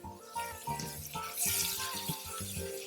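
Steady broadband hiss and crackle of catfish frying in a pan, with faint clinks and background music-like tones underneath.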